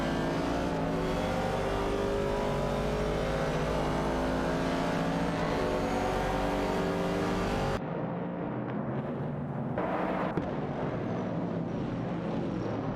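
Race cars in an AI-driven racing game, a 1970 Chevrolet Camaro and a Ford Falcon among them, pour out a loud, steady engine drone with layered revving tones; the sound drops abruptly to a thinner, quieter engine hum partway through.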